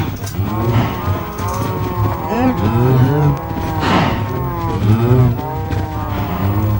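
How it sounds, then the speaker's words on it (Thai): Minecraft cows moo loudly and continuously as a crowded herd is fed, with many overlapping calls and no pause throughout. "เผื่อหลายๆคนอยากรู้ว่าตอนที่ให้อาหารวัวเป็นยังไงก็เป็นอย่างนี้เลยฮะมันรุมงินเต็มหมดเลยอะ"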